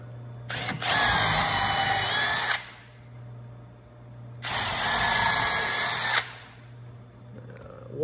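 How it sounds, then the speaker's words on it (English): Power drill pre-drilling through wooden bench boards for lag screws: two loud, close bursts of high whining drilling about two seconds each, separated by a quieter pause over a low steady hum. "Okay, pre-drill through the top one here."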